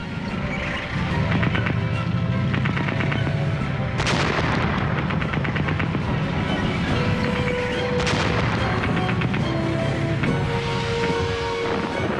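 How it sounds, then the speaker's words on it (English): World War I tank guns firing in battle, with a German A7V trading shots with British tanks: a couple of heavy booms stand out over a dense, loud, rumbling background layered with music. "At last, they got within effective range and opened fire again."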